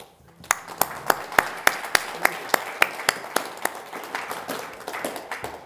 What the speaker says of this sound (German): Danke für diesen Applaus.